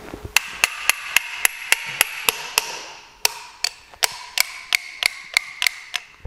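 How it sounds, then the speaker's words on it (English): A surgeon strikes a special U-shaped chisel during rotating hinge knee replacement surgery, and the hammer blows ring out as sharp metallic taps in a steady run of about twenty evenly spaced strikes with one brief pause in the middle. "then we push this special U-shaped chisel in"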